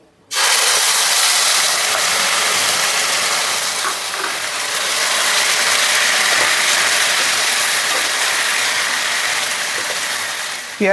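Onion paste fries in hot oil with bay leaf, mace and cloves for chicken rezala, a loud continuous sizzle and hiss that starts abruptly and holds steady throughout.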